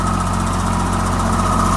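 A Wacker light tower's Lamborghini engine running at a steady idle, a loud, close, even mechanical chug with a low throbbing hum and no change in pace, nobody speaking over it.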